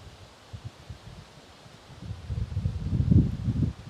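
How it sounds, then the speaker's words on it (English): Outdoor wind rustles through leaves, soft at first and then swelling into louder gusts with low buffeting rumble near the microphone. "Ooh, boy, that is some cold wind in that."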